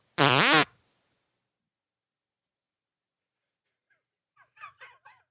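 A single loud, raspy fart bursts out close up near the start and lasts about half a second. Silence follows, then a few faint, brief squeaky sounds come near the end.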